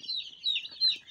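Newly arrived chicken chicks at a poultry setup peep and cluck in quick, overlapping high calls as they feed, fairly close and steady, with no talk.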